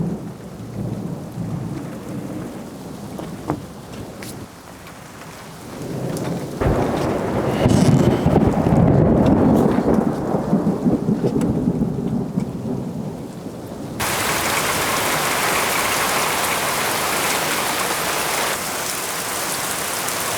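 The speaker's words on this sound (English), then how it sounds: "this wind's starting to kick up" Stormy weather outdoors on rural land, with wind gusts and heavy rain roaring and buffeting the microphone, swelling mid-clip and then settling into a steady loud rush.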